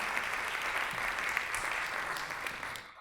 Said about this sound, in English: A clap of hand for him.